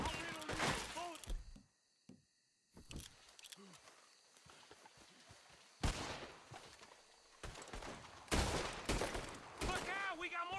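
Gunfire from a Red Dead Redemption 2 shootout comes in loud, sharp bursts with short gaps and a quiet pause near the start, along with thuds and some hoofbeats, while voices shout over the action.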